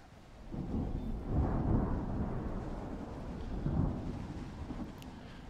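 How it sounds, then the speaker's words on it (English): A thunderstorm in the video game Smalland: deep, rolling thunder rumbles swell and fade across the whole stretch, loud and close, with a steady wash of rain beneath and no voices. "we're just going to wait out the storm"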